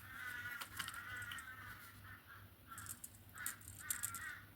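Harsh, chattering magpie calls repeat in short bursts at a distance, faint over a low steady hum outdoors.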